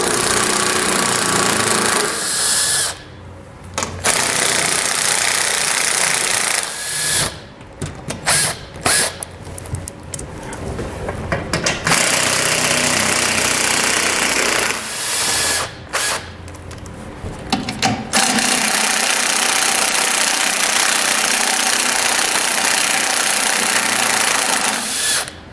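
Power tool spinning a socket to remove 10mm head bolts from a protective panel under a 2021 Jeep, heard as several loud bursts of whirring and ratcheting separated by short pauses, with no talk.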